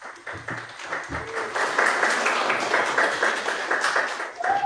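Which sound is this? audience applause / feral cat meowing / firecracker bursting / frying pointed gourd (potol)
audience applause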